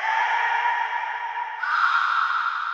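A sustained sung 'ah' vocal sample drenched in heavy reverb, held steady as a smooth washed-out tone that shifts pitch slightly partway through, with no other sounds.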